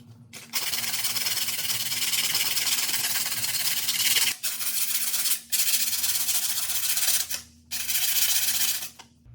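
Steady abrasive sanding of a filled patch on a concrete wall, a dry rasping rub against a hard surface in several long passes separated by brief pauses, close and loud.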